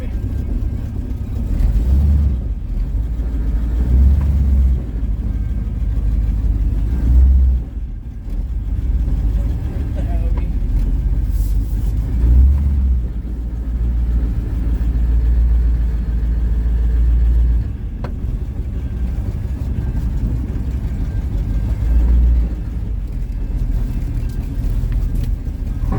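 An old hot rod truck engine idles after a cold start, giving a loud, close, deep rumble that holds steady and uneven for about twenty-six seconds.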